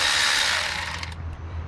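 A hand ratchet with a 13 mm socket clicks in a rapid, steady run of close, loud pawl ticks while working starter bolts on a 2015 Chevy Impala 3.6L, slowing slightly toward the end, no talking.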